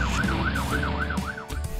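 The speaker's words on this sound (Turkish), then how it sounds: "Bu bir itfaiye arabası." A cartoon fire truck siren wails, sweeping up and down rapidly in repeated cycles, loud and close over a low engine rumble.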